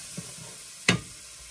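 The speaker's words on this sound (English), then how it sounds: "I'm going to add about a teaspoon and a half of ground cumin. I'm going to let this brown a little bit." Ground cumin toasting in a hot pan for a butternut hominy stew: a quiet steady sizzle with a soft stir early on and one sharp brief scrape-like crackle near the middle.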